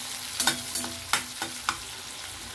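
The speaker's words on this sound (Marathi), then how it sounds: "त्याला चांगली कांदा फ्राय करून घेणार।" Onion and garlic frying in a pan for a fish gravy, a steady hiss of sizzling oil with several scraping stirs at irregular intervals, close and with no talking.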